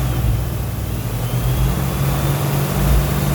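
Car engine revving during an alternator voltage check on a vehicle with a sound system, a loud, close, sustained low drone that swells slightly in pitch, with no talking.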